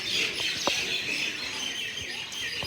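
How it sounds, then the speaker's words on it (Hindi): Birds chirp and tweet at Udhampur railway station, scattered bright calls over a steady outdoor hiss of ambient noise, with occasional short knocks and no talking. "सुन रहे हैं चिड़ियों की चहचहाट, और ये है उधमपुर रेलवे स्टेशन"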